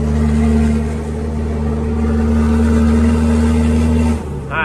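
Turbocharged car engine pulling hard in fifth gear under boost, a loud, steady droning roar that holds its pitch, then drops off sharply near the end as the throttle lifts.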